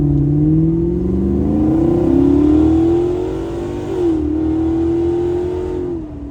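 A Jeep cruising down a road, its engine droning steadily with a rising then levelling pitch as it accelerates, close and loud from inside, with a slight dip as the throttle eases near the end.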